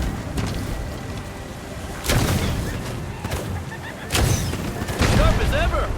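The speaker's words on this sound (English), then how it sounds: "They even brought out the fire cannons." Fire cannons in a martial arts MMO game boom twice, a few seconds apart, as heavy low blasts over constant game noise while a person talks.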